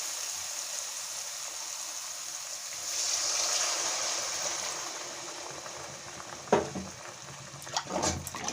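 Water poured into a pan of well-fried spice paste for Bengali masala begun (eggplant curry) makes a steady rushing splash that swells midway, followed by a few sharp sizzles and clatters.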